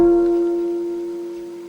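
A guitar in FGC3 tuning sounds a single strummed chord fingered S5, S4, T3, S2, ringing out alone after one crisp attack and fading slowly over nearly two seconds.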